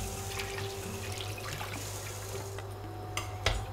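Lukewarm water running and sloshing as basmati rice is washed in a bowl, a steady close splashing wash with a few brief louder splashes near the end.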